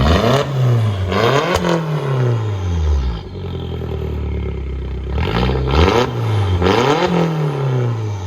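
Straight-piped VW Jetta with a 1.8L turbo engine, loud and close, revving in repeated rising bursts with a sustained high-rpm hold in the middle, raw and raspy exhaust with clattering overtones, no voices.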